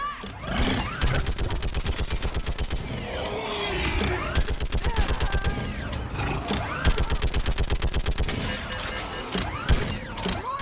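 Rapid, evenly spaced automatic weapon fire from Mass Effect 3 combat, a long string of sharp mechanical shots in sustained bursts with brief gaps between them, close and prominent throughout.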